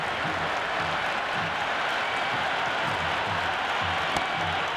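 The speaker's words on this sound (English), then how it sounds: "The crowd is electric right now." Cricket stadium crowd at an India versus Pakistan match roaring with sustained cheering and applause, a dense, steady wall of noise from thousands of spectators that holds at an even level throughout with no clear breaks.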